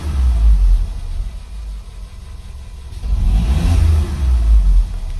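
An Audi engine with misfires revs under light throttle, a loud low rumble that rises and falls in two swells with uneven surges, heard close with no talk.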